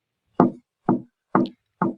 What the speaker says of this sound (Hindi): किसी चीज़ के बार बार टकराने की आवाज़ सुनाई दे रही थी, जैसे किसी मेटल का या किसी भारी चीज़ का कोई पार्ट बार बार उसकी खिड़की के दरवाजे से टकरा रहा है।